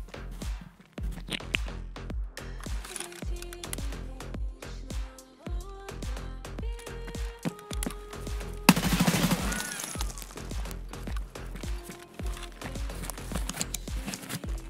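Gunfire in Escape from Tarkov, with bursts and single shots scattered through the clip, one louder close burst near the middle, and repeated footsteps underneath.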